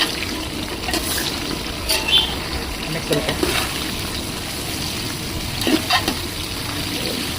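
Vegetables fry on high heat in a pan, a loud, steady sizzle overlaid with repeated scraping and clattering as they are stirred, with no talking.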